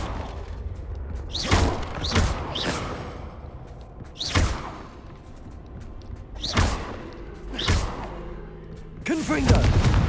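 Confringo explosion spells cast in a video game, about six separate blasts at irregular intervals, each a sharp whoosh that bursts into a booming thud, loud and close over a low game background.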